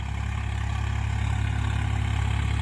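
A Swaraj 744 FE tractor's heavy diesel engine idles with a steady low rumble and rapid chugging pulse, close by and continuous throughout.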